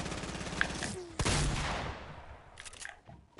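Rapid bursts of gunfire in Fortnite crackle up close, with one sharp loud shot standing out, followed by a fading tail and a few lighter shots afterward.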